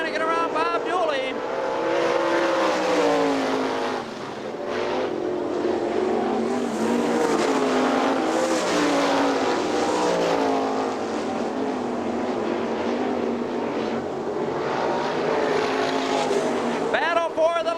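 410 sprint car engines roar continuously at high revs, rising and falling as cars pass, with an announcer's voice over the steady motor noise, at Hartford Speedway Park in Hartford, Michigan, 1999.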